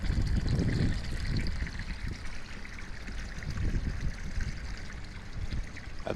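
Spring water flows from a hillside into a creek at Hot Springs, South Dakota, a soft, continuous trickle and gurgle with occasional louder splashes.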